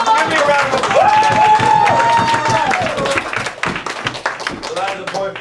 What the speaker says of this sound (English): So, give me a round of applause.